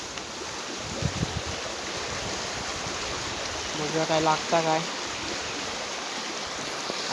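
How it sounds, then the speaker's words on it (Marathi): Water runs steadily through a small Konkan stream, a continuous broadband rush filling the whole clip while someone speaks briefly over it. "आला व्हाळावरती"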